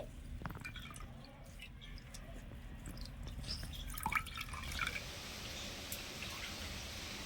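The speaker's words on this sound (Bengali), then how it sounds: "হালকা হাতে চিপে চিপে কিন্তু জলটা বের করতে হবে" Water drips and trickles faintly from fresh chhana curds as they are gently squeezed by hand for rasgulla, with soft, close, irregular splashes and no talking.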